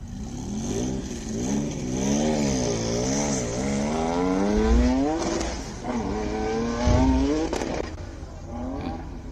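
A red Venom race car at the Simola Hillclimb revs hard, its engine note climbing and falling in repeated sweeps through gear changes, loud and close, with a couple of sharp pops.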